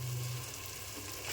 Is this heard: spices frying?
yes